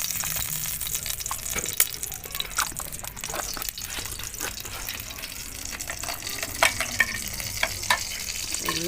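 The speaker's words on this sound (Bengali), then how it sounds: "আমার কড়াইটা গরম হয়ে গেছে, কড়াইয়ের মধ্যে আমি ঘি দিয়ে দেবো।" Ghee sizzling in a hot wok for payesh, a steady close crackling hiss with scattered sharp clicks and scrapes of stirring throughout.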